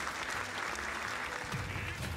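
Steady applause from a clapping crowd sound effect after a Super Smash Bros. Ultimate match, a dense, even patter of claps that fills the whole moment at constant loudness.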